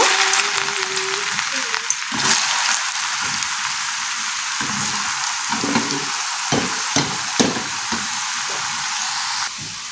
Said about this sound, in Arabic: هنا في مقلاة والزيت راها سخونه، غادي نوضع هنايا البطاطا التقلاليه